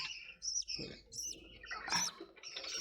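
Pet budgerigars, yellow spangle, chirp in quick, high, bright bursts close by, with short pauses between the calls.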